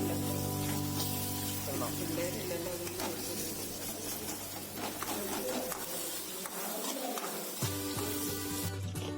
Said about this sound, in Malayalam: അത് നന്നായിട്ട് ഇളക്കുന്നു.